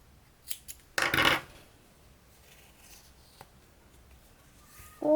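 Scissors snip yarn during crochet work on a gorilla-shaped AirPods pouch, one short crisp cut standing out clearly in a quiet room, with faint handling sounds before and after.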